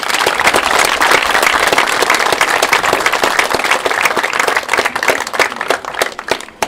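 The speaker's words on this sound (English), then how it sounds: "One more big round of applause for our class of 2021." Sustained crowd applause fills a senior night celebrating a high school class of 2021, dense steady clapping that holds loud throughout and thins slightly toward the end.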